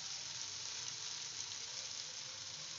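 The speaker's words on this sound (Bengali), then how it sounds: "দেখো, বেশ কিছুক্ষণ নাড়াচাড়ার পর কুমড়োগুলো কিন্তু খানিকটা ভাজা হয়ে গেছে।" Pumpkin pieces frying in a pan, a soft steady sizzle throughout, quiet and even with no voices.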